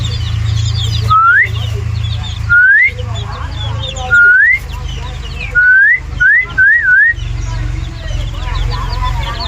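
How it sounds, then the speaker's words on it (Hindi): Someone whistles a series of short rising notes, spaced out and then quicker toward the end, beside chicks on a desi chicken farm, over a steady low hum with faint chirps in the background. "सीटी की आवाज़ सुन के सारे चुप हो गए"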